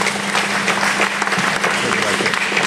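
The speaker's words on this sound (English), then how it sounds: "Let's hear it for Rupert Murdoch" A seminar audience applauds, dense steady clapping filling the room throughout at a loud, even level.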